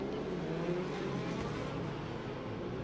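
A racing motorcycle on the Macau Grand Prix street circuit roars through a bend at high revs, a loud, sustained engine drone holding steady for the whole stretch, with no talk.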